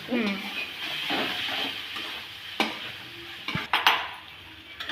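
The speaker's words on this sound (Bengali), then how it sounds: "এখন দিয়ে এটা এখন কষিয়ে নেওয়া হবে তাই তো ভালো করে কষবো" Pieces of cooked gram-flour dough sautéed and stirred in spice masala in a pan, a soft sizzle with scraping spoon strokes and a few sharp clinks against the pan near the end, close up, with faint voice in the background.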